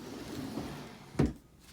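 A nursery dresser drawer slides open with a soft rumbling scrape that ends in a single muffled knock, close by and quiet.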